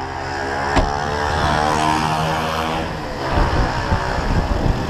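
A loud, rough motorbike engine roars steadily close by, with a sharp click near the start and the revving turning choppier toward the end.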